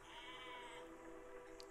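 Sheep in the physics building game Besiege bleat in a sustained, wavering cry that fills the short moment, fairly close and steady with no voices over it.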